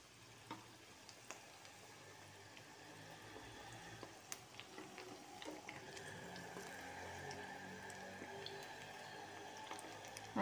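Potato medu vadas fry in hot oil, giving a steady, soft sizzle and bubbling that runs throughout with faint scattered crackles, quiet and with no talking.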